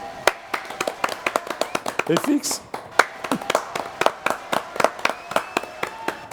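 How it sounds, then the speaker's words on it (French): A studio audience on a TV talk-show set claps in quick, sharp, rhythmic bursts, loud and close, with a short spoken phrase and voices cutting in partway through. "applaudissements"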